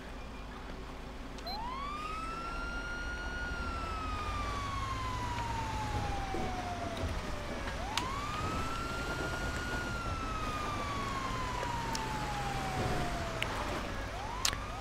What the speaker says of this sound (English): Actually, let me cut the siren off.